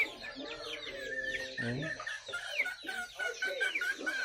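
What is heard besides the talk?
chickens clucking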